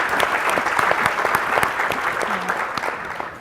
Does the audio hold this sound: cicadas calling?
no